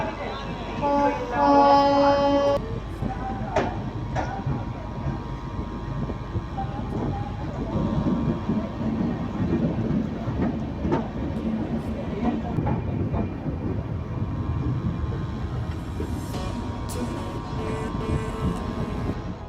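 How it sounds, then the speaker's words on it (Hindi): Jaynagar–Bhagalpur LHB express pulling out of Jaynagar station at night, with a steady low rumble of rolling coaches, a brief horn-like tone near the start and occasional rail clatter, with some voices in the background. "प्लेटफॉर्म 2 से अपनी ट्रेन का डिपार्चर हो रहा है"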